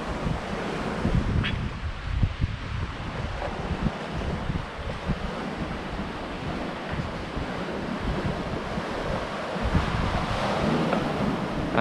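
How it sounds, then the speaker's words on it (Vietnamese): Waves crash and wash against rocks along an island shore in a steady, roaring surge, with heavy wind buffeting the microphone throughout. "nghe tiếng sóng vỗ vô, vỗ vô đá ầm ầm á"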